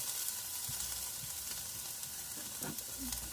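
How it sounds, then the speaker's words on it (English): Chopped onion sizzles in melted butter at the bottom of a gumbo pot, a soft, even frying hiss with light crackles and a stir or two, fairly quiet and steady throughout with no talking. "add your onion into your gumbo pot with some butter"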